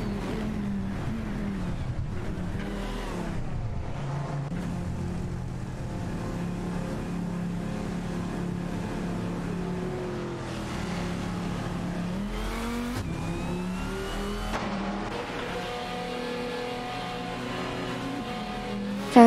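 Race car engines drone and rev steadily in an AI racing video game, a continuous layered roar with pitch shifts as cars accelerate, without speech.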